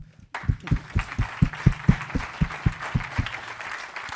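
After a brief silence, an audience claps following a talk on design for greener mobility, settling into a fairly even, rhythmic beat of a dozen or so distinct claps, moderately loud and close.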